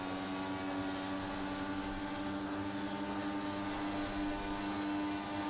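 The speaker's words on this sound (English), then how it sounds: "I am maxing out the rev limiter" A racing video game car engine held against the rev limiter, a loud, steady buzzing drone that stays continuous and unbroken throughout, with no talking.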